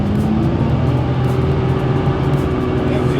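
A turbocharged BMW E36 328i with an M52 engine runs steadily on a dyno at around 2000 RPM. It makes a loud, continuous drone with a constant tone and no talk over it.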